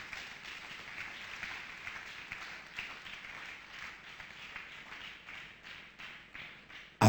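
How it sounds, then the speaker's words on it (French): A church congregation applauds with soft, scattered clapping that stays faint and distant throughout, ending in a brief loud knock. "Applaudissez Jéhovah."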